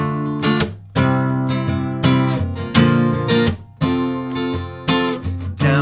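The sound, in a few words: guitar strumming verse chords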